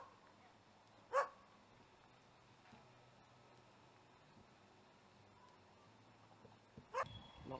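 Dogs with walkers on the Bridgwater and Taunton Canal towpath near Maunsel Lock give two single barks several seconds apart, faint and somewhat distant over quiet outdoor background.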